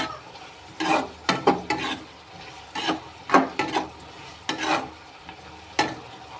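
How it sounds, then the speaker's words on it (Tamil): Carrot poriyal being stirred in a pan on the heat, with a spoon scraping and rubbing in irregular bursts over a soft sizzle, close and clear. "ரெண்டு மட்டும் அந்த அனல்லே கிளறணும் கிளறிட்டு இறக்கினீங்கன்னா சூப்பரான கேரட் பொரியல் ரெடி"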